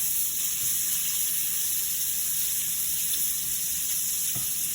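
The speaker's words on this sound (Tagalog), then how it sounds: "i-mix na po natin ang ating shrimp." Shrimp and onion fry with a continuous, loud, dense sizzle in a pan while being mixed, a steady hiss throughout with no talk.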